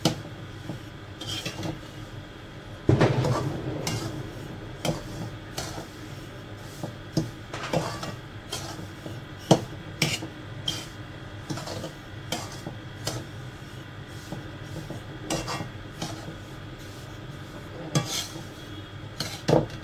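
Semolina being roasted in ghee and stirred in a pan produces irregular scraping and metallic clinks from the spoon against the pan, close and repeated, over a quiet background.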